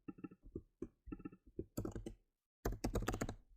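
Typing on a computer keyboard, a close, steady run of key taps in bursts, pausing briefly before a denser flurry of keystrokes near the end.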